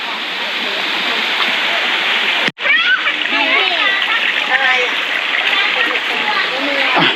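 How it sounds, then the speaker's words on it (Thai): Santa Then waterfall in Chonburi, Thailand, with a steady roar of splashing water close by, a brief cut partway through, and someone talking over the rushing flow. "เขียนไว้ว่าน้ำตก สันดาเถนชั้นที่หนึ่งนะครับ"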